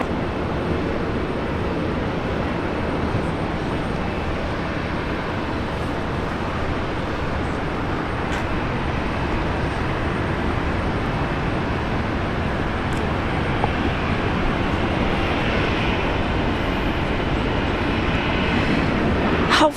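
A Jetstar flight from Tokyo Narita arriving at Brisbane International Airport gives a steady, broad engine rumble that holds for the whole stretch with a few faint ticks on top.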